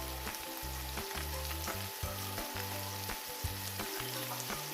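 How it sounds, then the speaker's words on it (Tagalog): Chicken pieces fry in melted butter in a pan, a steady close sizzle crackling throughout with occasional clinks and scrapes and a low rhythmic thumping underneath, no voices. "At ipiprito natin ang chicken yung magkabilang side nito hanggang sa mag-change ang color."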